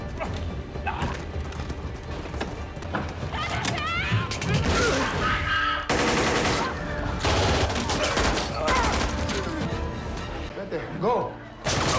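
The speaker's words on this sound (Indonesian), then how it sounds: "tiba-tiba Carlos ditembak oleh seorang pembunuh bayaran" Dense burst of gunfire in a film action scene, dramatic shots and impacts layered over music and effects, loud and continuous with several sharp bursts across the scene.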